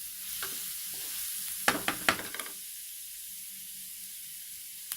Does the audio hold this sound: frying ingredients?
yes